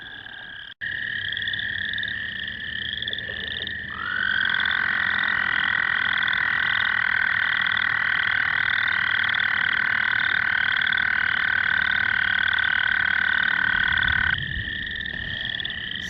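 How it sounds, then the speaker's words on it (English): A male toad gives a long, loud, continuous trill from close by, a steady pulsing buzz that shifts pitch briefly early on and runs unbroken for most of the stretch with no talking. "So a toad can trill for almost an entire minute if they want to."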